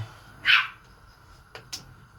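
A young puppy, about seven weeks old, gives one clear yelping bark followed by two shorter, fainter yips, somewhat distant in a quiet indoor room.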